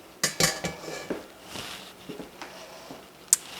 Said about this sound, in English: and dump that pasta in